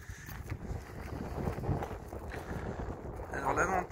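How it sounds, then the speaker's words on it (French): Gusty wind buffets the microphone with low rumbling bursts, loud and close throughout, on the coast as a storm rises. "je sais pas si on va bien m'entendre parce que le vent commence à se lever."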